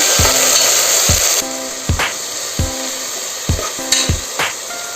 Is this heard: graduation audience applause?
no